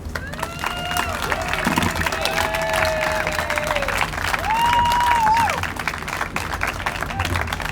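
A rally crowd at the state capitol applauds speaker Denise, a dense wash of clapping and cheering from a large outdoor gathering, with a few whistles rising over the steady noise.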